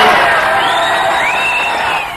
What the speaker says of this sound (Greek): Με ένα ζεστό χειροκρότημα υποδέχτηκαν τα παιδιά του Μειονοτικού Γυμνασίου Λυκείου της Κομωτινής τον Υπουργό Μακεδονίας Θράκης Γιώργο Πασχαλίδη